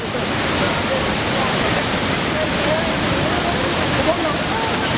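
Kamiranzovu waterfall in Nyungwe forest roars as a loud, constant, broadband rush of falling water with no breaks, close and filling the whole scene.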